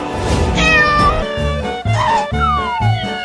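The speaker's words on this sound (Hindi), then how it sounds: "वो रहा इस बिल्ली।" A cat meows a few times in close succession, its rising and falling calls sitting over a busy, continuous background of music and sound effects.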